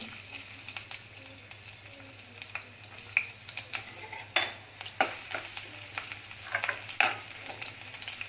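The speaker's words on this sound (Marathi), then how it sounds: "आता ह्याच कढईमध्ये थोडंसं तेल घेतलेलं आहे आणि त्याच्यामध्ये थोडंसं आलं आणि लसूण बारीक केलेलं आहे" Finely chopped ginger and garlic fry in a little oil in a kadai, a faint crackle under intermittent sharper stirring scrapes and taps, rising in bursts toward the end, with no voices.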